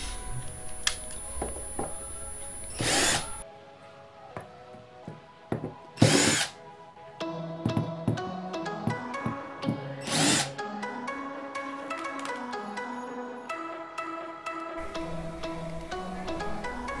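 Screws being driven out of a hard disk drive's casing: three loud, short whirring bursts from a small driver, spaced a few seconds apart, with steady background music running underneath.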